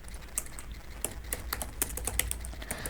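Typing a code comment on a computer keyboard, a steady run of quick, close key clicks with uneven rhythm and a few louder taps, no talking.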